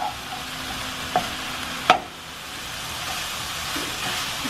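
Mushrooms browning with Italian seasoning in a pan, cooked for a low-carb keto spaghetti squash pasta, give off a steady low sizzle with a couple of brief utensil clicks near the start.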